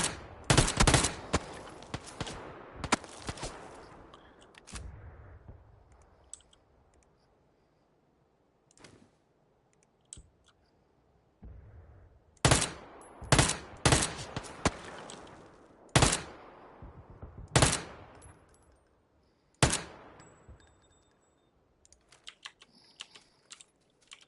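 Gunfire in PUBG played on PS4 with keyboard and mouse, sharp bursts of rapid shots in several clusters with quiet gaps between, loud and close.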